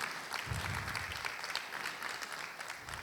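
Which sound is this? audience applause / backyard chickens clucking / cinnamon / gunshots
audience applause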